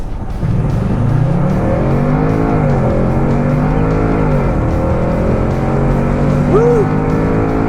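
An SUV accelerates hard at full throttle with windows down, a loud, close engine roar climbing through the revs with a shift and a second rising pull, heard from inside the cabin.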